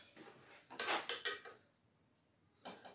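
Dishes clattering in a home kitchen, a few sharp clinks and scrapes of plates and cutlery in quick succession, then a pause and another clatter, moderately close.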